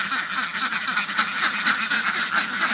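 Farm ducks on a village duck farm quack continuously in a loud, dense flock chorus close by, with overlapping calls and no talk.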